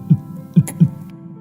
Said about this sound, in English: That's all he could hear, and the giant's heart beating.